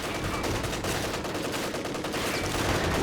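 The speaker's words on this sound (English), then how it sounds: "Some machine guns are now coming in here" Machine-gun fire in Company of Heroes 2, a dense, steady rattle of rapid bursts in a large battle that fills the whole moment, with no voices over it.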